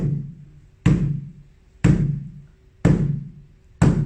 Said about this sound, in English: So this is a drum rim Yeah. with sticky tape around it.